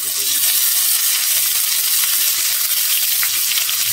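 Vegetables fry in a hot pan, giving off a steady, close, bright sizzle that hardly varies, with no talking over it.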